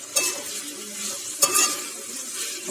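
Tomato and tamarind chutney gets stirred in a pan, with a couple of sharp scrapes of the spoon over a soft, continuous sizzle; nobody speaks.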